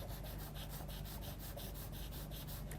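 Charcoal drags across paper in quick dark zigzag strokes, a close, rhythmic scratchy rasp repeating several times a second without pause.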